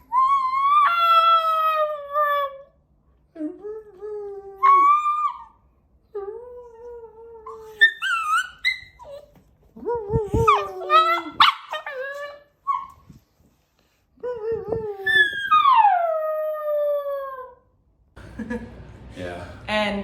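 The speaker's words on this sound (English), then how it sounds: "Here's his first howl." An Alaskan Klee Kai puppy howls up close in a series of high, wavering, rising and falling cries, each lasting a second or two, broken by short pauses and a few yips.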